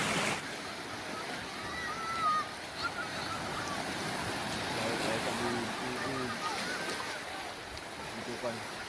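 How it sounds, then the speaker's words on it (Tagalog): High-tide surf rolls in with large waves crashing steadily on a beach, a continuous wash of noise at moderate distance, with faint voices in the background. "may malalaking alon na humahampas sa dalampasigan"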